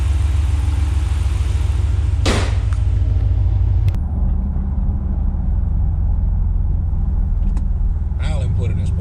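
A truck with a 6.4 engine and an AFE intake drives on rough city streets, a loud steady low engine rumble throughout with a few bumps and clunks, and someone speaks over it.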